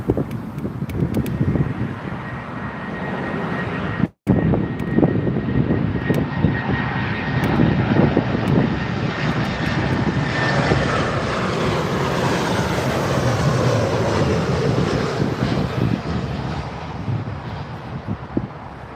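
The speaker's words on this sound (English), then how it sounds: "next up is Eurowings. Eurowings A319." Eurowings Airbus A319 landing on runway 27R at London Heathrow, a loud jet roar building and sweeping overhead with a steady whine, then a long broad rumble as it passes, with wind buffeting the microphone.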